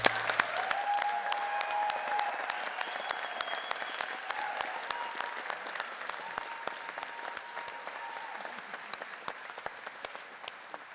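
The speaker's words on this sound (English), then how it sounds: "And there's more applause to come." A graduation ceremony audience applauds steadily for the class of 2017, dense sustained clapping from a large crowd filling the hall, with a faint voice or tone briefly audible over it.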